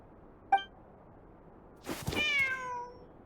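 A cat meows in the video game Genshin Impact, with a faint short call early on followed by a louder, drawn-out meow near the end, heard alone without talk.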